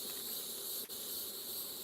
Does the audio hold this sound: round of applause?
no